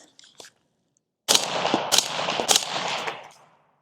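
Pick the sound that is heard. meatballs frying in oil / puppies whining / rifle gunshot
rifle gunshot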